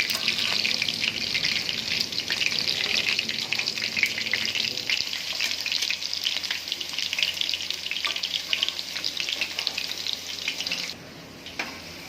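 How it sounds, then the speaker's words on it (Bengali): Potato pieces fry in hot oil over high heat for a mutton curry, a loud, continuous sizzle and crackle close up that carries on steadily before dropping away sharply near the end. "আলুগুলো ভালো করে ভেজে নেব, লাল লাল করে ভেজে নেব"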